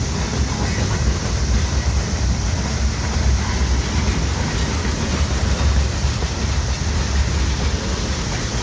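A train rolling past a crossing at Wartrace, Tennessee, with a loud continuous rumble of railcars and faint rhythmic clatter of wheels on the rails, close by and steady throughout.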